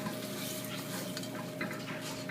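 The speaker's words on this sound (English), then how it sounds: "and we'll stir it around." Sugar caramelizing in a pan for Cuban flan with rum and a vanilla stick, stirred steadily with soft scraping and faint clinks over a low sizzle, close and quiet.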